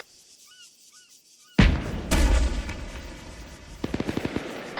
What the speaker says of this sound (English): Yeah, I got T-72 shooting at me.